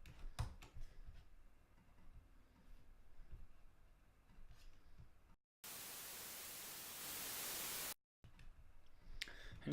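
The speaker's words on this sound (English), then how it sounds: "And then we're gonna need a white noise." A white noise sample in an Ableton buildup enters after quiet keyboard clicks and soft ticking, a loud flat hiss that rises slightly toward the end before cutting off abruptly.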